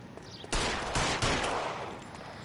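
Rapid gunfire in the video game L.A. Noire: a burst of loud, close shots starting about half a second in, several cracks in quick succession over a sustained rattle, with no talking.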